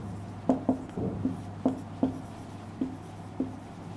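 Chalk or marker writing on a board during a physics lecture on motion in a straight line, a series of short scratchy taps and strokes in an uneven rhythm, close and fairly quiet, with no speech.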